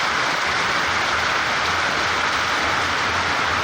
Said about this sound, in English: I'm going to cook some food in the rain